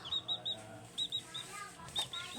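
High, thin peeps from young chicks, repeated in quick pairs and triplets with short pauses, close and fairly faint.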